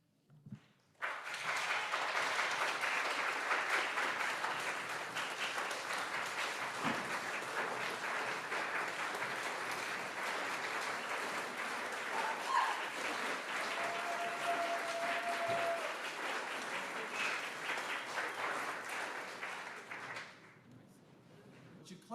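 Audience applause at a farewell celebration gathering, a long steady burst of clapping lasting around twenty seconds before tapering off abruptly.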